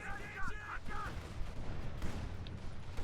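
Artillery barrage in Company of Heroes 2, a 1v1 match with Panzer Fusiliers on the field: a dense, continuous rumble of distant shell impacts and bursts fills the clip at moderate loudness, with brief electronic game tones near the start.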